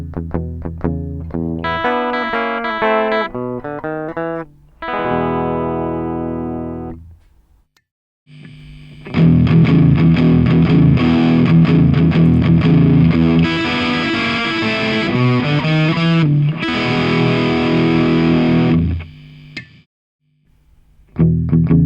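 An electric guitar plays through the Ampire amp simulator in Studio One on its low setting with the preamp turned down, giving a lightly driven, effected tone. It plays strummed and picked phrases separated by short pauses, loud and close.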